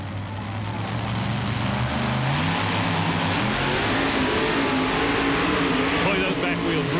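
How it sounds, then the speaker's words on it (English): A two-engine monster truck strains against a pulling sled in the Houston Astrodome, its engines holding a loud sustained roar that climbs in pitch as the back wheels spin, with an announcer talking over it. "Boy, those back wheels really spinning."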